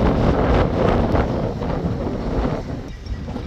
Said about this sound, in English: Wind's blowing pretty good too.